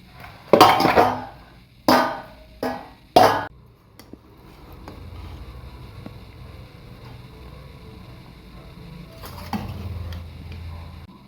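A ladle scrapes and knocks against a pot while scooping prawn biryani rice, four sharp metallic clanks in quick succession, then quieter shuffling and a faint later scrape under low background hum.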